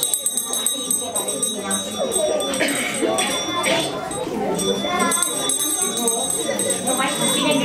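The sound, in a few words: small hand bell ringing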